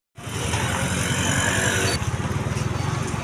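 A repaired motorcycle engine runs close by, a loud, steady rough drone that settles into a pulsing idle with a regular throbbing beat.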